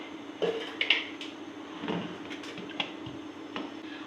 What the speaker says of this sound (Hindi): कुकर को मैं बंद करूँगी